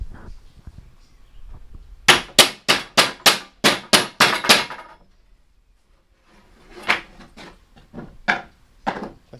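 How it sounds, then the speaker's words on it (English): Hammer blows bend down the edges of a plywood garden cart: a fast run of about ten sharp, ringing strikes, a pause, then a looser, quieter series of knocks. The sound is close and clear, with no talking. "Luke's going to show us how to hammer those down."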